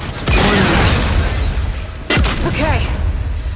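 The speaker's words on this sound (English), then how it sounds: "Throwing grenade!" A grenade blasts in Gears 5, a loud booming explosion near the start that rolls into debris and battle noise, with a second sharp burst about two seconds in; a voice talks over the din.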